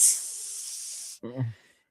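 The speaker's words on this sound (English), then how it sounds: "Fred puts his hand on the side of the furnace, and it sizzles" A hand pressed against a hot basement furnace in a horror film gives a sharp, loud sizzling hiss lasting about a second, cut off abruptly and followed by a short, low vocal groan.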